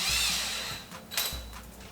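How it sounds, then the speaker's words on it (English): A power drill with a larger bit bores a hole in wood for garage shelving, whirring steadily, then easing off and briefly surging again, heard up close. "Now I'll use a larger drill bit that's just slightly"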